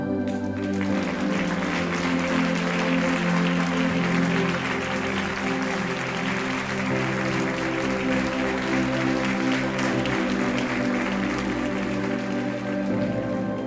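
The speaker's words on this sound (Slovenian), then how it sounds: "Kajti to ti pokažejo tako, da ti iskreno zaploskajo." Steady applause, dense and sustained, fills the whole stretch at an even level, mixed with a soft background tone.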